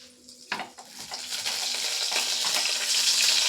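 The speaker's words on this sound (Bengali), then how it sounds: "কালো জিরেটা আমি ফোড়ন দিয়ে দিলাম।" Black cumin seeds hit hot mustard oil in a pan, bursting into a sudden crackle that quickly swells into a steady, bright, close sizzle that keeps building, with no voices.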